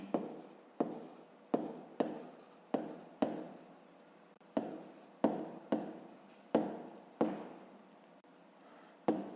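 Numbers being handwritten on paper during a fifth-grade maths exercise, heard as a steady series of close, distinct scratchy pen strokes, roughly a dozen short bursts in an uneven rhythm with no talk.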